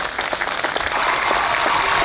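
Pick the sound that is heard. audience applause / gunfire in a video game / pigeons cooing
audience applause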